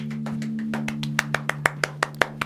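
A single person clapping alone in a quiet radio studio, about a dozen sharp hand claps that start soft and irregular and then become crisp, evenly spaced and close, over a steady low hum.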